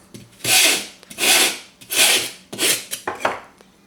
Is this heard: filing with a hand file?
yes